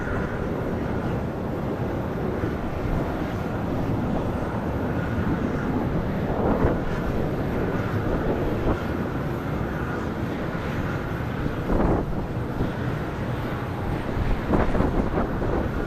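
A Contour ERJ regional jet lands at Charlotte Douglas airport in windy weather, a steady broadband jet roar that fills the whole stretch, loud and continuous with slight swells near the end.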